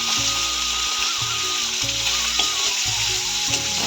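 Loud, close sizzling of fish frying in oil, a dense continuous crackle with rhythmic low thumps like stirring or shifting in the pan.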